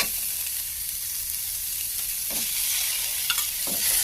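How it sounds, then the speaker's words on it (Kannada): Chopped tomatoes hit browned onions in hot oil, producing a steady, bright sizzle with a few spoon-scraping stirs, close and uninterrupted by speech. "ಇಲ್ಲಿಗೆ ಇವಾಗ ಟೊಮೊಟೊನ ಹಾಕೊಳ್ತಾ ಇದ್ದೀನಿ."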